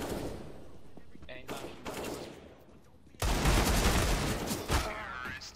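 Gunfire in a competitive shooter video game comes in several loud, sharp bursts of rapid shots, separated by short quieter gaps, with the heaviest, densest volley in the second half.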